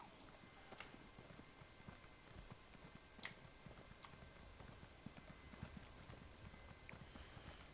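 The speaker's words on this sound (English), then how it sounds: "Alright, so let's just walk there. I'll summon my horse." Steady clip-clop of horse hooves at a walking pace in the video game Elder Scrolls Online, with a few sharper hoof strikes standing out over a constant low rumble of background noise.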